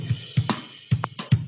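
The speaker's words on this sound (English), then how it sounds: "Soft and complex sounds like this." A Logic Pro X virtual drummer plays a soft, complex pattern using side stick, with busy kick hits and crisp rim clicks in a quick syncopated groove, close and unaccompanied by speech.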